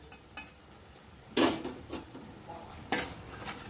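Roasted ingredients crackle in a pan during preparation of a fry dish, sharp crisp bursts of crunchy rattling and clinking in a few quick clusters, close and fairly loud.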